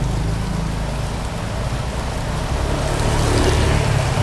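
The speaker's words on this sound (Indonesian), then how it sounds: "Belum mau muter kan masih hujan." Steady rain falls on a Jakarta street, a dense even hiss with low traffic rumble beneath, swelling slightly louder toward the end, with no talking.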